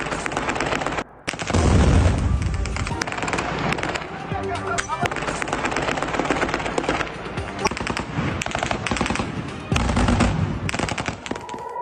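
Heavy automatic gunfire in dense, overlapping bursts during an attack on a US army base in Erbil, Iraq, loud and nearly continuous, with heavier thumps mixed in.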